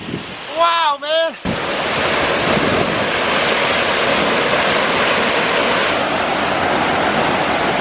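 Heavy mist from Vernal Falls drenches the Mist Trail in Yosemite, a loud, continuous rushing hiss of falling water and spray that starts abruptly after a brief whistle and persists throughout.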